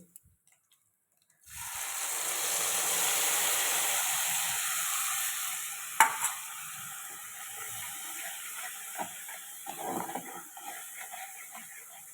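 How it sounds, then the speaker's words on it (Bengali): Prepared spices drop into hot oil and set off a sudden loud hiss that fades gradually into lighter crackling, with a sharp clink of a utensil partway through. "এই তেলটা গরম হয়ে গেছে, এবার একে একে যে মশলাটা আমি করে রেখেছিলাম সেটা দিয়ে দেব"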